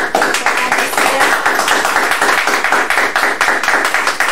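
Online class session audience giving a strong round of applause at the close, steady dense clapping throughout, loud and close, with faint voices mixed underneath.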